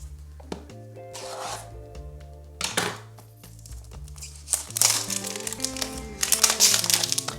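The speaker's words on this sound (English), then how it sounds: "I don't exactly have a knife with me, so I'm gonna use scissors." Scissors cut through the plastic and cardboard packaging of a budget iPhone box, giving crinkly snips and rustling bursts, heaviest toward the end, over steady background music.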